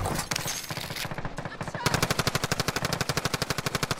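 Rapid automatic gunfire in Call of Duty Warzone, loud close bursts that settle into a fast, evenly spaced stream of shots.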